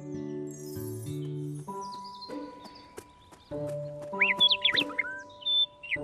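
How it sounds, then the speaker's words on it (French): A bird sings cheerfully in an orchard tree: bright chirps and warbling phrases in the last two seconds, heard over sustained electronic tones from a children's cartoon soundtrack. "Un oiseau chante gaiement dans un arbre."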